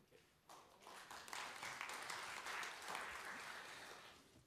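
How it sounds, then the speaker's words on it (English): Applause breaks out from the public gallery of a parliamentary chamber during a budget vote debate, a dense wash of many hands clapping that swells and holds steady, moderately distant and without talk. "gallery, you are not supposed to clap."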